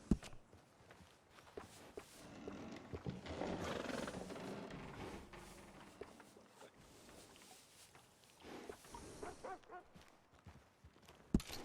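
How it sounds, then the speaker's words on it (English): A horse moves about with soft hoof steps and occasional snorts or whinny-like sounds, at moderate level against a busy background, with no one talking. "good-looking horse there"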